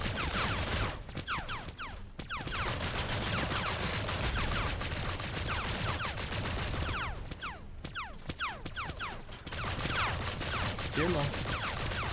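Rapid bursts of turret gunfire in the sci-fi game Hostile Mars crackle steadily throughout, with denser volleys near the middle and end, and a voice talks intermittently over the shooting.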